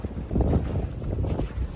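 Strong gusts of wind buffet an outdoor microphone on a street, a heavy low rumble that swells and dips for a couple of seconds.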